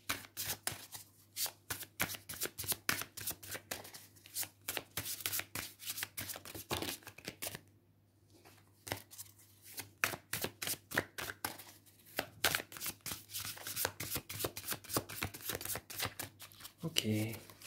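Oracle and tarot cards, including a Dixit card, are shuffled by hand in rapid, crisp riffling bursts, close up, with a brief pause in the middle and a soft voice talking faintly underneath.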